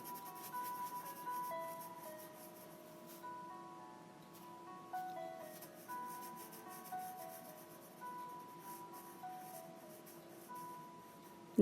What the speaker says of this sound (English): Now I'm doing some sweeps with the pencil.